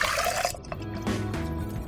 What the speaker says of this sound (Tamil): ஸோ இதில் கொஞ்சமாக தண்ணியும் போட்டு.